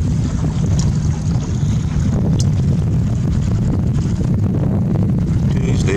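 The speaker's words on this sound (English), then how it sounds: "It's kind of windy." Strong, constant wind buffeting and roaring across the microphone on final approach to Noel Island, loud and unbroken, with faint water or engine noise beneath.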